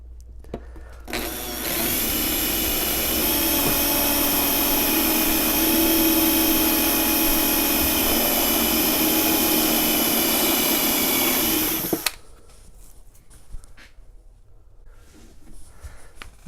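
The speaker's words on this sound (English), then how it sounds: "So we're going to drill some holes" A power drill with a step bit bores holes in a project box, a loud, steady whine lasting about eleven seconds, then stopping and leaving quiet handling noise.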